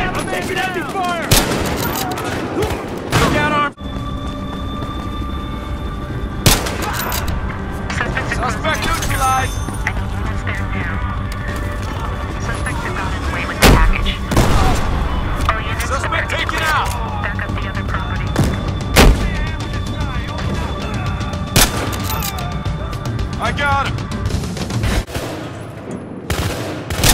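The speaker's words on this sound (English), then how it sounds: "Taking heavy fire!" Heavy gunfire from the Battlefield Hardline beta: loud, continuous bursts of automatic fire with sharp single shots and booming explosions, while voices call out over the battle.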